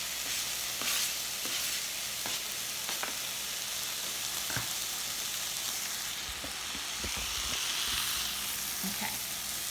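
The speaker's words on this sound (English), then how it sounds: "We're just going to saute this for probably 3 minutes or so" Chopped red bell peppers and onion sautéing in olive oil in a pan, a continuous bright sizzle with occasional stirring scrapes and clicks of a utensil, close and fairly quiet.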